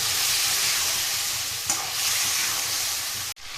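Ground spice paste sautéing with yam and potatoes in hot oil, a steady close sizzle with a spatula stirring and scraping, loud and continuous until an abrupt break near the end.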